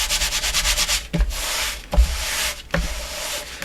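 Paper being rubbed firmly over chipboard to press out wrinkles, a run of dry scraping strokes, close and loud, with sharp knocks between passes and no talking.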